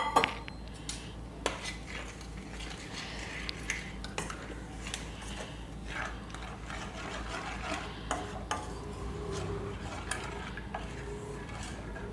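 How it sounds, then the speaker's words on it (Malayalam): A spoon stirs roasted rice flour mixed with water in a metal vessel for Kerala-style vattayappam batter, giving repeated clinks and scrapes against the sides over a steady kitchen background, with no talking. "ഇതിലേക്ക് കുറച്ച് വെള്ളം ഒഴിച്ച് ഒന്ന് കലക്കി കൊടുക്കുക."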